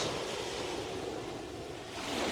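Sea waves washing onto a beach in Pattaya, Thailand, a continuous broad roar of surf with light wind noise, moderately distant and steady, no voices.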